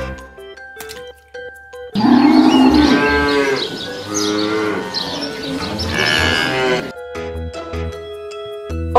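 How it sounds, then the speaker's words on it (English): A cow moos in a long, drawn-out, close call lasting several seconds, with a simple musical jingle playing before and after. "Cow."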